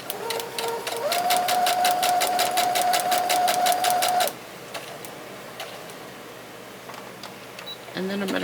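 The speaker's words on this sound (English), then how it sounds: "I'm going to sew all the way down to this corner and stop at that corner." Sewing machine stitching a Halloween paper-pieced fabric coaster, a rapid steady mechanical whir with a high motor whine running for about three seconds before stopping, then quiet with a faint click.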